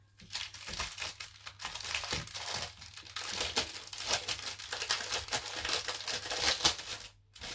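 Crinkly plastic packaging of a diamond painting kit is torn and crumpled open at close range in a steady run of crackling bursts, pausing briefly near the end.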